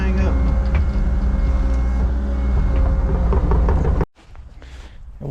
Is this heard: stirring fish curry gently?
no